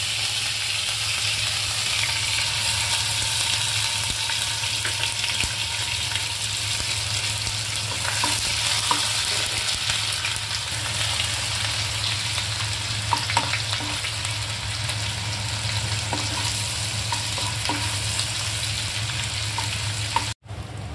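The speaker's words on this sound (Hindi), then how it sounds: "आदि और लहसुन का पेस्ट भून चुका है।" Bay leaf, two cardamom pods, two cloves and ginger-garlic paste fry in hot oil in a pan with a steady, close, loud sizzle and occasional stirring scrapes, no talking.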